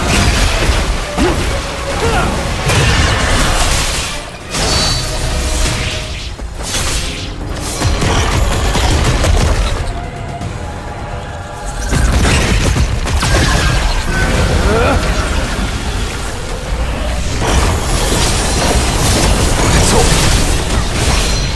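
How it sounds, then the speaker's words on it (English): Explosive attack bursts in the action game Solo Leveling ARISE, loud booms and crashing impacts filling most of the stretch, with a brief lull near the middle before dense blasts resume. "Feel the wrath of Thetis! You can't avoid it! It's no use! Explode!"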